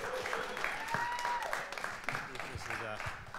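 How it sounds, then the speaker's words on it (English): Audience applause for a speaker at a talk, a dense, steady patter of clapping that fills the room and sits under an overlapping voice. "Let's give a big round of applause to Mr."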